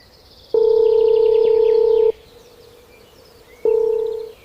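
A telephone dial tone sounds as a call is placed: one long steady beep of about a second and a half, a pause, then a second shorter beep, loud and close with faint bird chirps in the background.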